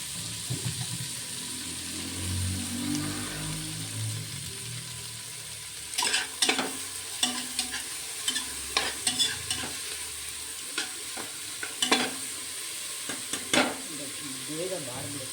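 Chopped spinach (palak) stir-fried in a pan for palak rice, heard as a low, steady background sizzle with intermittent scraping stirs and spatula clicks growing busier in the second half; no one speaks.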